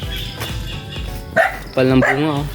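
A dog barking outdoors in a Philippine yard during a rambutan harvest, giving a few short barks close by while someone talks over it.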